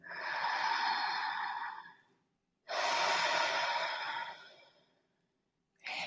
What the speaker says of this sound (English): Let's take 5 long, strong, deep breaths here